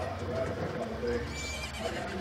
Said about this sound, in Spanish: Ah, tenía que ir con el caballo, claramente.